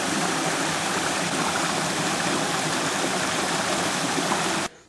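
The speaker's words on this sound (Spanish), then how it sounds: "El sonido del agua es el que prevalece en el jerte valdefuenteño." River water rushes and babbles loudly and continuously in the Jerte valley near Valdefuentes, a dense close-up stream sound that cuts off abruptly just before the end.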